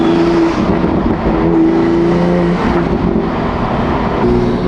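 A Toyota Supra engine revs steadily in fifth gear as the turbo spools near 3,800 RPM, a loud, sustained droning roar close to the listener with no talking.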